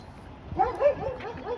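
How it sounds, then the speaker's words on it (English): A dog gives a few short yips and barks at close range, quick sharp calls over a soft background hum. "oh, that's a dog."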